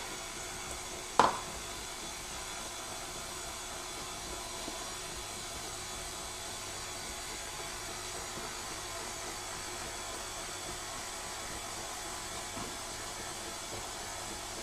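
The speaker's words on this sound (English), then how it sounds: "turn it up and just beat it for about 2 minutes" An electric mixer beats gluten-free chocolate cake batter in a bowl with a steady, unbroken motor whine for over fourteen seconds. A single sharp knock sounds near the start.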